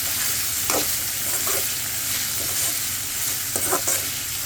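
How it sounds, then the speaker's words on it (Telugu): Ridge gourd peel frying with green chillies in a pan, a steady close sizzle with occasional stirring scrapes, and no voices. "మిర్చిలు ఫ్రై అయిన తర్వాత నేను బీరకాయ పొట్టు అయితే వేసుకున్నాను."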